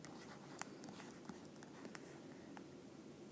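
Pen or marker writing out an intercept-form equation for a math lesson, a faint, steady scratching with short strokes and taps, quiet and alone without speech.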